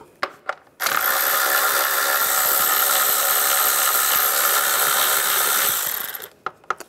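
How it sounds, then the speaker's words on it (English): A ratchet with a 10mm socket spins a bolt out on a 2010-2016 Cadillac SRX engine, a few separate clicks and then a long, loud, continuous ratcheting whir lasting about five seconds. "Remove this bolt, use a 10mm socket."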